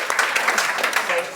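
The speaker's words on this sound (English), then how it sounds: "give this guy a round of applause" A brief burst of dense, steady clapping from an audience, loud and close, with a voice faintly mixed in.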